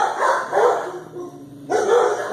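Dogs barking in an animal shelter dog room in Olathe, loud close barks in two bursts separated by a short pause, ringing in an echoing indoor space.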